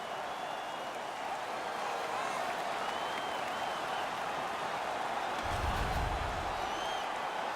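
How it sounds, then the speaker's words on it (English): Crowd cheering and applause in the NHL 17 hockey video game after a fight, a steady dense roar that fills the whole stretch and swells slightly near the end, with no clear voices on top. "Their man's won the fight. The crowd is ecstatic."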